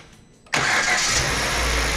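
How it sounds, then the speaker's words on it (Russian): A Kia Rio engine from the 2011–2017 model range, with 228,624 km on it, cranks briefly and catches, then settles into a steady, fairly loud run after a quiet lead-in. "Запуск двигателя."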